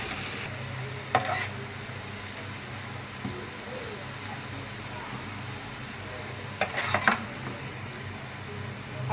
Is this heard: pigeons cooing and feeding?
no